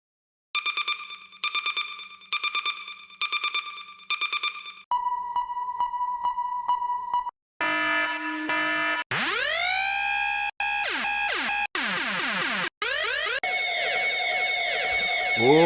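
Reggae sound system effect loops for speed garage: stuttering bleeps and laser-like zaps give way to sweeping siren wails and pitch-diving whoops, each section loud and abrupt, with no talking.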